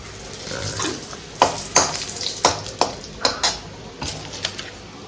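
Bay leaves and dried red chilies frying in hot oil for a Bengali prawn curry, a steady crackling sizzle broken by sharp metal clinks and scraping of a spoon against the pan.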